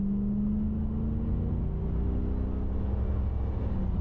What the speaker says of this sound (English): it sounds like an 80s V8